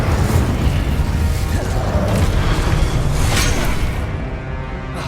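The Incendio fire spell in Hogwarts Legacy bursts out as a loud, continuous fiery roar with a deep rumbling low end and whooshing flare-ups, easing slightly near the end.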